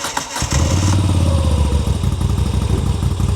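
A newly bought motorcycle's engine cranks and fires, settling into a loud, deep, steady running rumble close by, with no talk over it.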